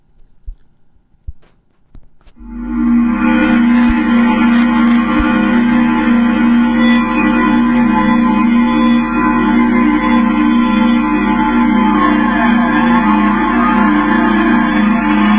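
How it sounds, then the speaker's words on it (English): A dense, steady electronic drone of layered humming tones, a sonification of Pluto, begins after a few faint clicks and holds evenly, eerie and unchanging. "This is the sound of Pluto."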